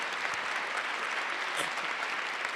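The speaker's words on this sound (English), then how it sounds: "Clap it up for the parents." A school crowd at a basketball jersey retirement ceremony claps for a player's parents, steady applause with a few scattered cheers mixed in, heard from within the audience.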